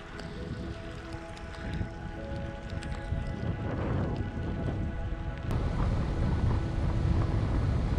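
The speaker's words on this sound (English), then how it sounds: "the rain was upon me again. And it hit me hard." Heavy rain pours during a bikepacking ride in the far north, a dense steady hiss mixed with wind buffeting the microphone, growing slightly louder toward the end, with no voices.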